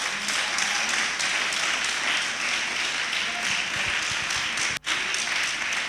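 Church congregation applauding for the Lord, steady dense clapping from a crowd throughout with a brief dip near the end, close and fairly loud.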